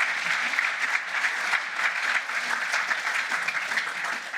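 Sustained audience applause for the speakers after a session of lightning talks at a conference, a loud, dense, even wash of clapping lasting throughout with no break.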